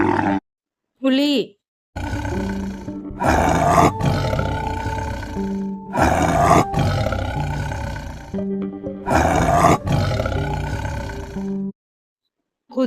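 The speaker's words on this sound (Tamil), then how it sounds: "புலி," A tiger gives three long, deep roars with rough growling between them, loud and close, after a short rising cry at the start.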